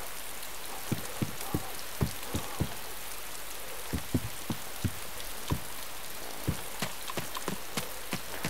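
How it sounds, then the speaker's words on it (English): Heavy rain pours down in the video game DayZ, a steady dense hiss with scattered sharper drops tapping on surfaces, continuous and fairly close with no talking. "Realise it's absolutely pissing down with the rain."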